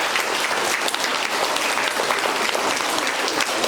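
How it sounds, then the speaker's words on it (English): Students at a school's quarter-two awards ceremony give a big, sustained round of applause, dense steady clapping from a large crowd filling the room with no voices over it. "I need you to give a big round of applause to all of your parents for what they do to help you be successful"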